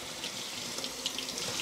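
Water runs from a kitchen tap to rinse drained canned food, a steady close splashing hiss with no speech.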